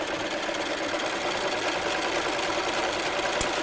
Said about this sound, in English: And then I'll just continue sewing all the way to the end.